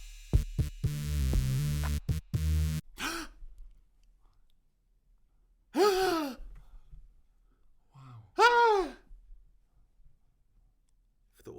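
Two sharp, breathy gasps stand out after a short burst of clatter, each a sudden rising intake of breath separated by quiet pauses.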